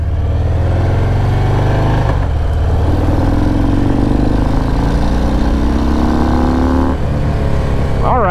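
A 2020 Harley-Davidson FXDR 114 motorcycle engine rumbles loudly up close and then revs and accelerates, a deep steady roar with rising pitch through gear changes.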